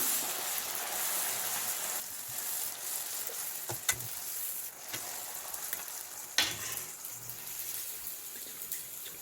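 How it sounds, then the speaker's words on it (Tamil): Achu murukku batter deep frying in hot oil, a soft steady bubbling hiss with a few sharp clicks and taps of the metal mould, fairly quiet and close, no speech. "நம்ம இதை எண்ணெயில் போட்டுடலாம்."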